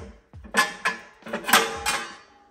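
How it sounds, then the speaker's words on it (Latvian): A cast-iron stove's ash pan is handled and emptied with its included handle, giving a series of close metallic clanks and scrapes in uneven bursts, with no talking. "pelnu iztukšošana ir pavisam vienkārši ar iekļauto pannu un rokturi"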